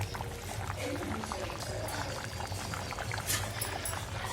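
Curry simmering on a stove, a steady bubbling and low rumbling boil that stays close and continuous throughout, with scattered soft pops over a constant background hiss.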